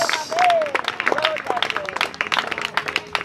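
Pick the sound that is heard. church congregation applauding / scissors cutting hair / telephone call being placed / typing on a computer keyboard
church congregation applauding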